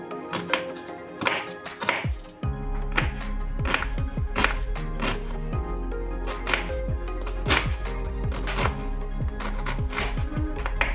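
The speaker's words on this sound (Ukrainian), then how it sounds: "До кабачка нарізаю пів цибулини" A knife chops half an onion steadily on a cutting board, quick rhythmic thuds over a low background hum, close and fairly loud.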